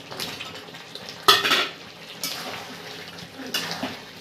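Chunks of cut potato are dropped into a pot of simmering Bengali mutton curry, making a sharp clatter and splash followed by a few softer knocks of metal utensils against the pot, close by, with no voices.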